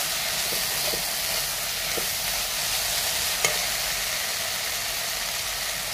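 A mixture for khar, seasoned with a little alkaline banana-peel ash, fries in a pan with a steady low sizzle, broken by a few faint stirring clicks and one sharp clink near the end.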